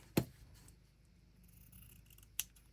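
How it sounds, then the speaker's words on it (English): Two crisp snips of scissors closing as they cut fabric, one near the start and another over two seconds later, with quiet room noise between them. "So I'm just going to take my scissors and cut my fabric at an angle."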